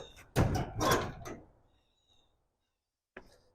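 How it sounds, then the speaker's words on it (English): A metal storage shed door swung shut, heavy rattling thumps and a clatter in quick succession, then quiet and a final short knock. "Let's make sure the door closes."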